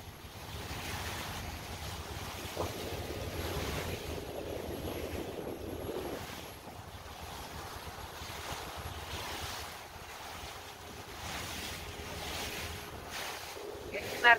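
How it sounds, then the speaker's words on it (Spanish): Sea waves roll onto a shore near an archipelago in Europe, a continuous surging wash that swells and fades, mixed with gusts of wind buffeting the microphone. No one speaks. "para llegar a esta hermosura de mar"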